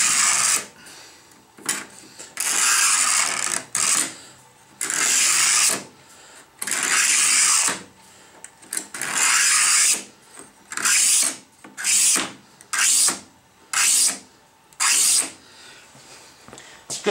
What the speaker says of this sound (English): just put it on the grinder and the belt sander and